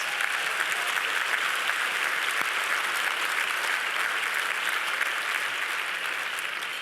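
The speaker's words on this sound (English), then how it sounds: "If we could give them a round of applause." Dense, steady applause from a large audience honoring the event chairs at the connectED 2025 education gala, sustained evenly and loudly throughout with no speech over it.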